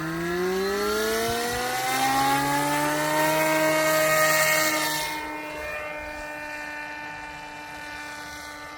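The electric motors of a scratch-built Sky Hunter drone whine with a rising pitch as they spool up for an automatic takeoff, then settle into a steady, fainter drone.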